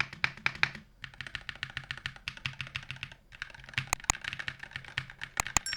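Steady bursts of typing on a Moonsgeek FUN60 mechanical keyboard with customizable keycaps and switches, close and clear, with crisp clacky keystrokes in quick runs separated by short pauses and a few sharper taps near the end.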